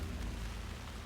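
Steady rain falling in the game Alan Wake II, a dense even hiss of drops with a low rumbling undertone filling the short stretch without any voices.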